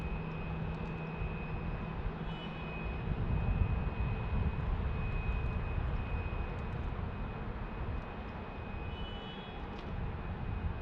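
Airliner engines at Salt Lake City Airport make a low, steady roar that swells slightly and then holds as a plane passes at a distance. Soft background rumble runs underneath the whole time.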